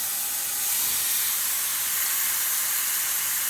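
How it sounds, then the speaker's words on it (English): Brisket sears in a hot skillet with a steady, loud, close hiss of sizzling that stays even throughout. "After you let the brisket sear for 3 minutes, flip it over on each side."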